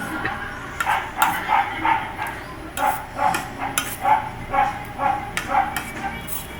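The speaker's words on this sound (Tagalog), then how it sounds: "Kuya Joe, patay may yung mga aso dyan sa inyo" Several dogs barking repeatedly nearby, a string of sharp, fairly loud barks in uneven bursts over a noisy background.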